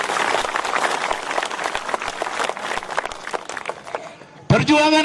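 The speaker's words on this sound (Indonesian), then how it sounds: "Tepuk tangan untuk Tuhan, luar biasa." A church audience applauds in a dense burst of clapping that fades gradually, then a voice starts speaking at the end.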